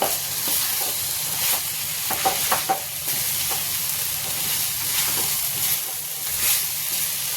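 Kundru and potato sabzi sizzles and fries in a kadhai while a spoon stirs it, scraping and clacking in irregular strokes against a steady crackle.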